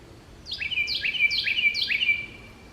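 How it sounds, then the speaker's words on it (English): Four repeated bird calls, each a quick downward-sweeping whistle, ring out clearly at an even pace over a quiet outdoor background on a forest trail in Jefferson Memorial Forest on a June morning. "Listen to those birds sing."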